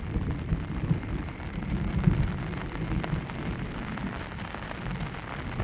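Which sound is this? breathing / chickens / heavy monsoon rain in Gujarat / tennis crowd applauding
heavy monsoon rain in Gujarat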